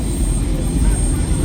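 Helicopter at an airport: a steady, loud, low rotor and engine drone that continues without a break through the short clip.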